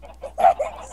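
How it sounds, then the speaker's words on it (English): Chickens on a chicken farm in the Minecraft video game give a short burst of clucking, two quick squawky notes close by and fairly loud, with no speech. "See, look at my chicken farm."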